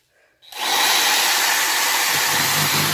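After a brief quiet moment, a loud power saw starts up and cuts steadily through sign letters, a harsh whining roar that holds for the rest of the clip.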